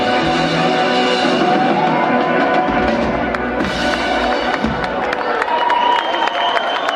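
An audience at the Cologne street-table festival Dä Längste Desch vun Kölle cheers, whoops and applauds a band. The roar is loud and sustained, with scattered shouts and claps throughout.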